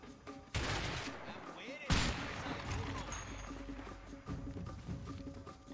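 Gunfire in the video game A Way Out: two loud shots, then a steady run of lighter shots rattling in a firefight, with a voice briefly under the action.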